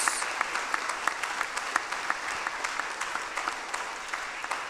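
A congregation at an Easter Vigil church service applauds, a fairly faint and distant wash of clapping with individual sharp claps standing out in an uneven rhythm throughout.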